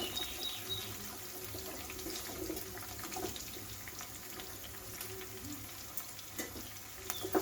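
Green chillies and onion frying in a pan while Telugu-style prawn curry is cooked, giving a steady close sizzle with occasional stirring clinks and faint running-water noise behind it.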